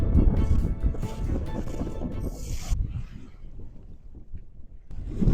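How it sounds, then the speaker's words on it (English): Wind buffets the microphone on a sailboat cruising the Finnish archipelago, a loud, rumbling, gusty roar that swells and eases with a brief quieter lull. "the wind has picked up a little bit"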